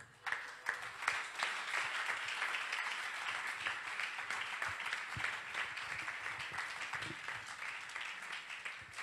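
A church congregation breaks into dense, sustained clapping that fills the room, with a few louder rhythmic accents standing out from a continuous wash of hands.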